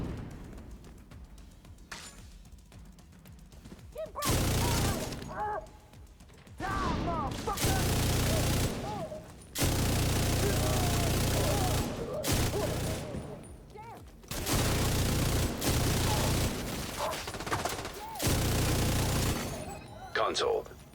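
Video game gunfire at enemies on a shield: repeated loud bursts of shooting come in several long volleys separated by quieter gaps, with talking running through.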